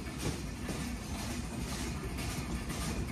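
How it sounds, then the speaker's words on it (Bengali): The Sundarban Express intercity train rolls into the platform at Chuadanga railway station, a loud, continuous rumble of wheels and engine close by, with no voices. "চুয়াডাঙ্গা জেলার চুয়াডাঙ্গা প্ল্যাটফর্মে প্রবেশ করলো আন্তনগর সুন্দরবন এক্সপ্রেস ট্রেন।"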